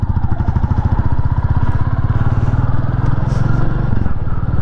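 A 2023 Royal Enfield Classic 350 engine thrums loudly and steadily up close while riding, a rapid low throbbing with a slight rise in pitch near the end.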